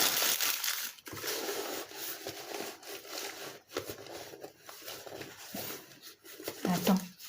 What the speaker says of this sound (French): je vais le bourrer de papier pour qu'il soit stable